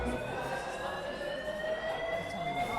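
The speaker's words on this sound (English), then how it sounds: "I don't know if someone just pulled the fire alarm" A restaurant fire alarm sounds continuously, a steady electronic tone with several sustained pitches that drift slightly, loud and unbroken over a murmur of room noise.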